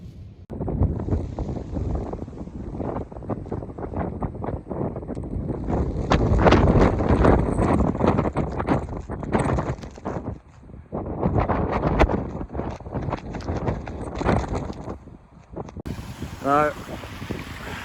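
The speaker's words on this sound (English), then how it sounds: "It is absolutely howling it here, and the rain's lashing down." Strong wind howls, buffets and roars across the microphone in gusts, with a dense rushing wash of lashing rain, loud and close throughout, in the Ogwen Valley, Snowdonia, Wales.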